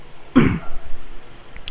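A single harsh cough close to the microphone, followed by faint breathing and low background noise.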